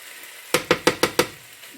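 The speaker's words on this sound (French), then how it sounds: "il faut bien mélanger pour ne pas faire de grumeaux" A spoon or whisk stirring flour into a tagine sauce in a pot, heard as five sharp, evenly spaced scraping strokes close by, with a faint low simmer underneath and no talking.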